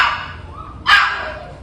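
Pomeranian puppies give two sharp, high yips close by, one at the start and one near the middle, in a quiet room.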